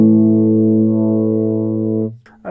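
An electric guitar with a vintage tone plays one loud, sustained, distorted chord that rings evenly for about two seconds. It then cuts off, and a brief quieter pluck follows.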